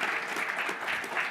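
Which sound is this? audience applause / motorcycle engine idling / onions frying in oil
audience applause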